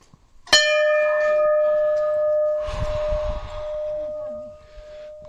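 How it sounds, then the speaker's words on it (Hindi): A single temple bell strike rings out sharply, then its clear metallic tone hums and sustains for several seconds while faint voices and footsteps move in the background. "चलो भाई घंटी बजे।"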